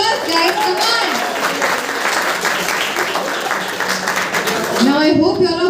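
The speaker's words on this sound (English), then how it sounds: "Give them a round of applause" Sustained audience applause at a school farewell event fills the room, loud and dense, with voices and cheers mixed in and a short burst of louder crowd noise near the end.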